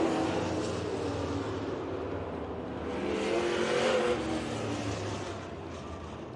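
Race cars circling a dirt oval at Eagle Raceway during a heat race, a steady dense engine roar that swells and fades slightly as the pack passes, heard from a distance without talk.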